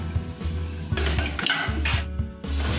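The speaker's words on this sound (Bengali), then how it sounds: "ঢাকনা দিয়ে এখন ঢেকে দেবো।" A lid set over a pan of taki fish bhorta in a home kitchen, giving a few close metallic clinks and clatters of pot and lid over a steady low hum, with no talk.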